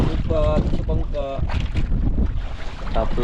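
Strong wind buffets a small fishing boat at sea, rushing and roaring steadily over the hull and the water, with a voice calling out faintly beneath the gusts.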